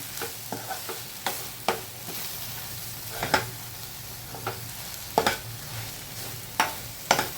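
Roasted eggplant mash for bharit is sautéed in a little oil in a pan, a soft sizzle under intermittent scrapes and taps of the spoon spread across the whole stretch.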